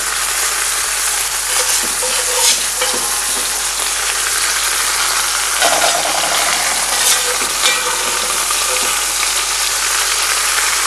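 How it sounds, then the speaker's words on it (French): Bacon lardons and small shallots fry in a hot pan with a steady, loud crackling sizzle, broken by occasional scraping stirs and clinks of a utensil, with no talking. "j'ajoute les lardons, en les égouttant bien sûr, les petits lardons"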